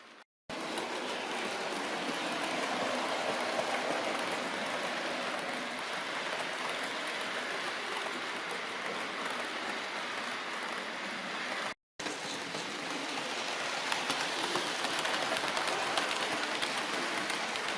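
OO gauge Bachmann model steam locomotive of the BR Standard class running round a layout, a steady rushing rumble that carries on for the whole span with one brief break, close to the microphone and without talk.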